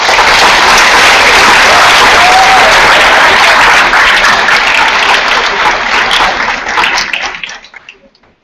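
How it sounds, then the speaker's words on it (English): Middle school students burst into loud, dense applause at an awards ceremony, steady clapping from a large group that holds for about seven seconds before tapering off into quiet. "So give yourselves a round of applause."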